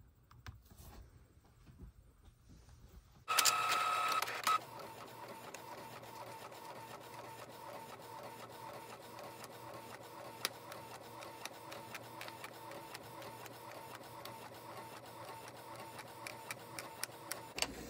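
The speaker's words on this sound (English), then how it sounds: "As you can tell, it's starting to print." A home printer feeds and prints on tissue paper: after a brief quiet start, a short loud mechanical whir gives way to a soft, steady hum with light ticking and clicks.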